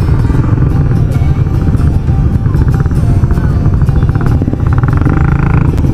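Heavy road traffic outside EDSA, a dense constant rumble of engines with motorcycles and cars passing close, loud and steady throughout.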